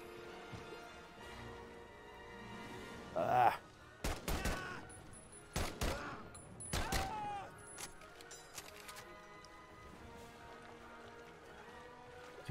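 Several sharp gunshots ring out in Medal of Honor: Above and Beyond, scattered in bursts of two or three amid faint game ambience, with no talking over them.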